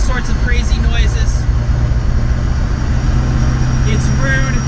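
Loud, steady low rumble from a 750+ horsepower old muscle car's engine and exhaust, a continuous droning roar filling the whole clip with faint voices underneath.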